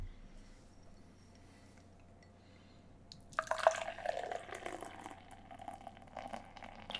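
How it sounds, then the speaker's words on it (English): Beer poured straight from a freshly opened can into a glass, a slow pour: quiet at first, then a close, bubbly splashing and fizzing rush of liquid that continues steadily to the end. "let's get into the theatrics of a 5-minute pour"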